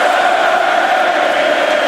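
A loud, dense roar from a packed hockey arena crowd during an NHL Stanley Cup Final game between the Florida Panthers and Edmonton Oilers, sustained without a break.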